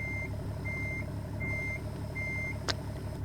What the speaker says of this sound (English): Problem with this truck is you can't really go slow when backing up.